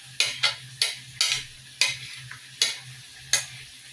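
Diced onions fry in a pan while being stirred, sharp scraping strokes in a roughly regular rhythm, about seven of them, over a low sizzle, close and clear with no talking.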